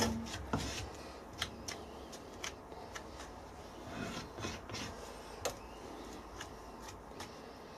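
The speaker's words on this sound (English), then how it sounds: "sand it back to shape." Hand sanding of a cast bronze piece, the abrasive rasping in short irregular strokes with a few sharper scrapes and knocks, close and moderately quiet with no talk.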